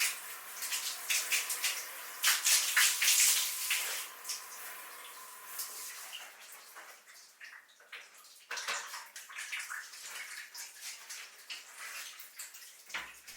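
Cold water from a shower sprays and rinses down a bathroom's tiled walls and corners, a broad hissing splash with gurgles that runs steadily, then turns patchier and softer toward the end.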